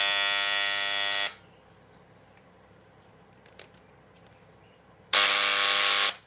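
An electric engraving pen buzzes loudly at its maximum setting for just over a second, goes almost quiet for several seconds with faint ticks, then buzzes again just as strongly near the end.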